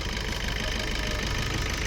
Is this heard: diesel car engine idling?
yes